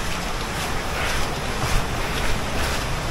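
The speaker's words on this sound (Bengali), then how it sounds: "সেখান থেকেই কিন্তু জলটা গড়িয়ে নালার মতো একটা আকার ধারণ করে কিন্তু কেভের বাইরে আসছে।" Water pours out of a cave in a stream-like flow, a dense, continuous rushing wash that stays fairly loud and even with slight surges.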